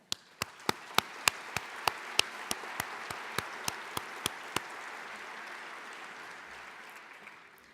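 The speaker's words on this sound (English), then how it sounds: "I ask everyone to join me in a round of applause" Audience applause at a pharmacy education annual meeting's opening session, with a series of sharp, evenly spaced close claps over a quieter crowd wash that fades out.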